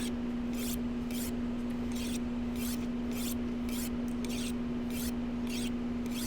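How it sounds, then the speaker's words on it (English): In The Long Dark, a hatchet breaks down a wooden bench with about a dozen regular rasping, chopping strokes, evenly spaced and close, over a constant steady tone. "I'm gonna use this hatchet to break down this bench"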